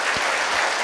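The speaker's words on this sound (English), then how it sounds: "Can we have a big round of applause for Mr. Nishant?" A conference audience gives a steady, loud round of applause that fills the whole moment, dense and continuous with no talking over it.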